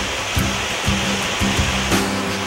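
Maragondon Falls pours in a steady, loud, close wash of rushing water, a continuous broadband roar with no voices over it.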